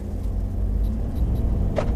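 A 2018 Ford F150 Limited pickup truck cruising on a smooth road gives a steady, low rumbling cabin drone with no speech.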